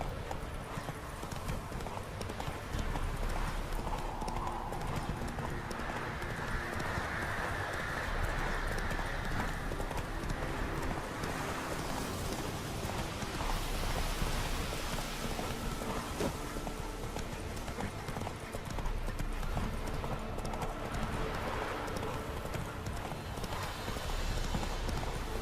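In The Witcher 3 video game, a horse trots with continuous rhythmic hoofbeats over a dense, busy background, steady and fairly close, with a brief whinny.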